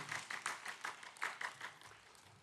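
Several bursts of applause from a church congregation during a Wednesday worship service, each lasting a fraction of a second, fairly close and moderately loud.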